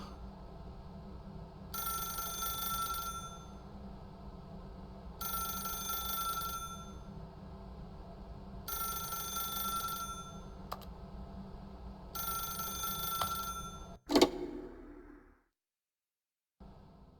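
A telephone rings repeatedly in The Stanley Parable Ultra Deluxe, four evenly spaced electronic bell bursts over a steady low room hum, then a sharp click as the receiver is picked up and the ambience cuts out.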